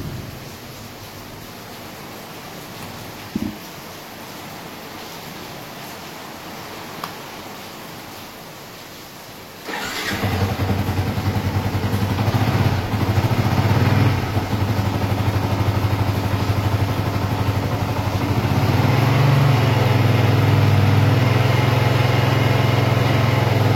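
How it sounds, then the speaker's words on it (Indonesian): Quiet background with a couple of clicks, then a Yamaha R15 V2 motorcycle engine starts abruptly after an oil change with Yamalube Sport Gold and keeps running at a steady, loud idle with a slight rise toward the end. "Selanjutnya kita nyalakan mesin."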